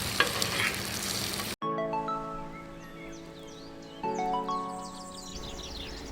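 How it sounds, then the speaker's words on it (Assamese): Chopped onion and garlic fry in hot oil for chicken fried rice with a loud, close sizzle for about a second and a half. The sizzle cuts off abruptly, and birds then chirp and sing in a quiet background. "এতিয়া ইয়াত ফ্ৰাইড ৰাইচ ভাজিবৰ কাৰণে পিঁয়াজ আৰু নহৰু কুটি লোৱা সেইখিনি ভাজি আছোঁ"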